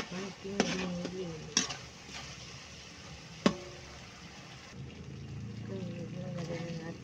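Garlic and onion stir-fried in a pan for a home-cooked vegetable dish, soft sizzling under a voice with a few sharp scraping clacks of a utensil against the pan.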